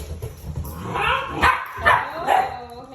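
Labrador puppies yip and bark in short bursts while play-fighting, about four sharp yelps close by over scuffling noise, with a person's voice faintly in the background.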